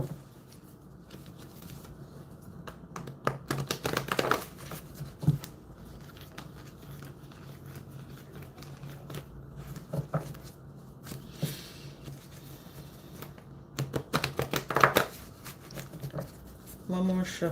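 Cards are shuffled in several brisk papery bursts spread across the clip, close up, with some low talk in between.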